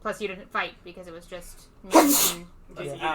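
A single loud, sharp sneeze bursts out amid casual conversation at a tabletop role-playing game session, with several people talking before and after it.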